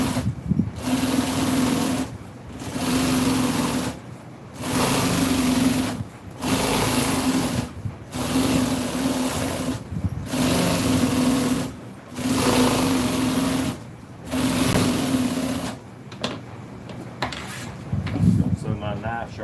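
Sewing machine top-stitching a seat cover for a 1974 Ford truck, running in about eight evenly spaced bursts of a couple of seconds each with short pauses between, close and steady, then a few rustles and clunks.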